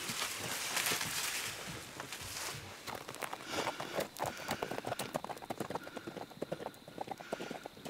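Horse hooves beat a steady, rapid clip-clop on the ground as a horse moves off, close and clear at first, then continuing at a slightly lower level with no talking.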